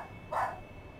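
A dog gives one short, moderately loud bark over a faint steady background hum.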